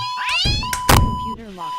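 A cat meows loudly and close up, a few drawn-out rising and falling cries with a soft thump in the middle.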